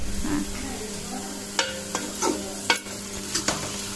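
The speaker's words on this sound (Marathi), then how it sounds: "तर त्यासाठी पहिला मटण फ्राय करून घेणार आहे" Mutton fries in a pan for a Kolhapuri tambda rassa, with a steady sizzle under sharp, repeated scrapes and knocks of a stirring spoon against the pan, close and loud.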